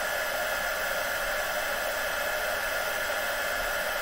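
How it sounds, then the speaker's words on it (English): A heat tool blowing hot air to dry puff paint on a handmade card, a steady, loud airy whoosh held without a break, close to the listener. "I'm just going to dry that puff paint"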